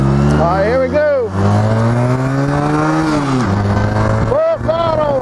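A 2009 Honda Rebel 250 motorcycle accelerates at full throttle, its engine loud and close, climbing in pitch through the gears with short drops at each shift, and wind noise over it.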